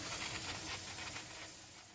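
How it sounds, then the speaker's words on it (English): Steam hisses steadily from a titanium cooking pot of salmon and rice, a close, constant breathy rush that eases slightly toward the end. "It's in and it's still just kind of steaming away. I can feel a pretty good pressure that's coming out."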